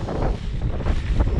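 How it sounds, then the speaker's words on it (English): Wind gusts buffet the microphone at an outdoor car boot sale in January with a constant low roar, rising and falling in strength, with no voices. "It's too windy out there"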